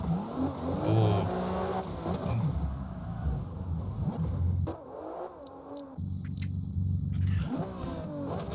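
A BMW E92 M3 in the CarX Drift game revs hard through the gears, its engine climbing and dropping in pitch with shifts, a brief off-throttle dip, then winding up loud again.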